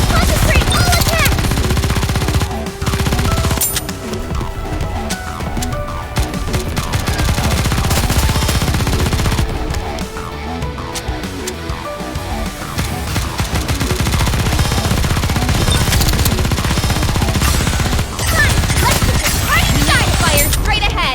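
Sustained heavy gunfire from the NIKKE game, dense, loud automatic fire that runs almost without pause, with brief dips, mixed with game voices and effects.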